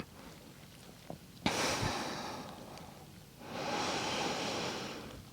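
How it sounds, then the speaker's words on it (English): Long, deep breaths during a Pilates workout sound close and airy: a drawn-out inhale followed later by a second slow, breathy exhale, separated by quieter stillness. "Long deep breathing. I like to do my 360 breathing."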